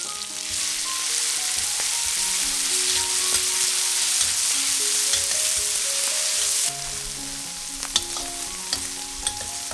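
Korean kimchi stir-fries in a hot pan with a dense, loud sizzling hiss and the scrape of a spatula, the sizzle easing slightly near the end, with a few sharper clicks and no talking.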